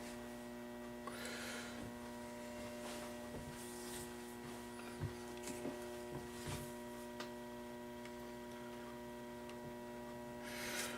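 A homemade plastic bending machine with a heating element gives off a low, steady electrical hum once plugged in, faint and continuous, with a few soft handling knocks.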